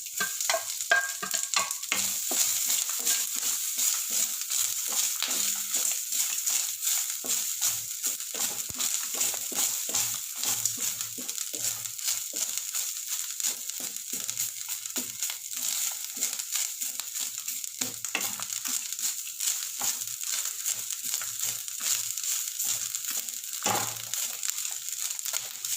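Curry leaves and grated coconut frying in a pan for a cucumber poriyal, a steady bright crackling sizzle throughout with frequent small scraping and stirring clicks.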